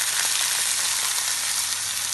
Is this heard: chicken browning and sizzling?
yes